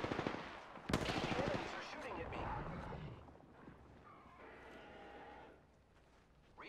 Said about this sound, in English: He's shooting at the prowlers.